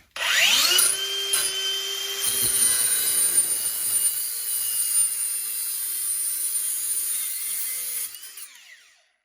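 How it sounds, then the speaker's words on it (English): An angle grinder cuts through central heating pipes near a gas boiler, a loud whining motor that rises, holds a high steady pitch with shifting grinding tones, then winds down and fades at the end. "Just got my grinder back out of retirement."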